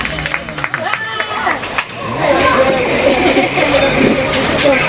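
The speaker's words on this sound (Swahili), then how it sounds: "Wapi makofi ya Jenny anapokuja aendelee" Church forum crowd breaks into applause for Jenny, a steady wash of clapping building up and carrying on loudly, with voices and cheering mixed in over the hall's babble.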